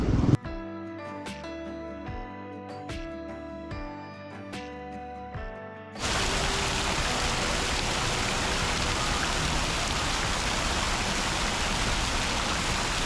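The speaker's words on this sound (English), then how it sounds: "It started raining" Steady, dense rain hiss at the Petronas Towers in Kuala Lumpur fills the scene after a brief stretch of music, continuing loud and even with no voices.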